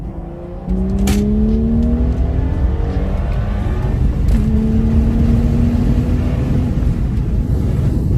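A car engine revs up hard and then keeps pulling in steady, loud accelerating passes, close by, with wind rumble underneath and no talking.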